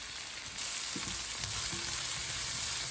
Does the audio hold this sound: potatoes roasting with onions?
yes